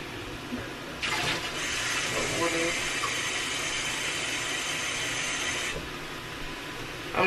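About a cup of water pours from a small Pyrex bowl into a dish, a steady splashing stream lasting several seconds that stops abruptly over quiet room noise.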